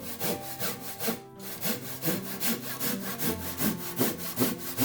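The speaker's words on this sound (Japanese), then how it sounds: "実際に木曽ヒノキを刻んでみて分かったんですけども、ノコを使った感覚は木は柔らかいですね。" A Japanese hand saw cuts roughly 200-year-old Kiso hinoki cypress by hand, with rhythmic back-and-forth strokes rasping evenly and close by, one short pause partway through, and no talking.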